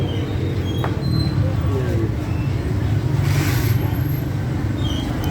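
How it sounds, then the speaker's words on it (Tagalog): Steady roadside traffic of tricycles, single motorcycles and cars passing together, a continuous low rumbling drone with a louder swell midway, no voices. "yung mga tricycle, mga single motor, tapos mga sakyan, kaya pagkakasabay-sabay maingay"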